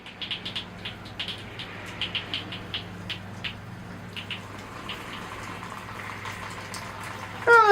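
Water rinses through the soil of a potted tree, a steady low wash with irregular patter and splashing throughout, quiet and close, briefly louder near the end.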